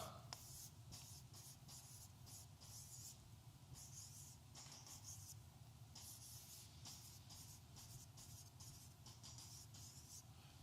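A pen scratches out notes in quick, faint bursts of strokes close by, with pauses between words over a low background hum.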